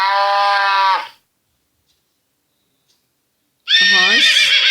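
A horse gives one loud, close whinny lasting about a second. Silence follows, then a different bright animal call enters near the end.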